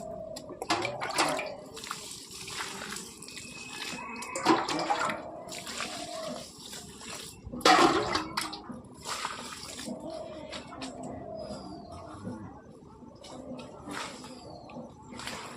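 Water poured over gravelly soil to soak it into mud for building a clay stove outdoors, giving irregular splashing and gurgling bursts at close range, with birds faintly in the background and no talk.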